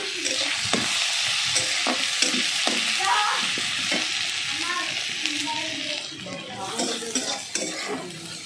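Spices and salt with Kashmiri chilli powder sizzle in oil in a pan for a mustard and green chilli fish curry with Bata fish. Steady frying hiss runs throughout, broken by repeated scraping stirs and clinks of a spoon against the pan.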